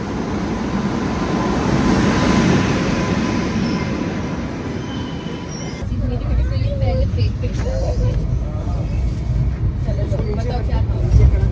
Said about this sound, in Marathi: गाडी आली आहे आता.